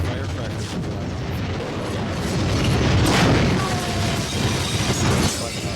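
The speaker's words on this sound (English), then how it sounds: "Firecrackers are going off." Firecrackers going off in the video game High on Life, a dense rumbling barrage of booms and crackling bursts mixed with dull crashes, loud and continuous over game ambience.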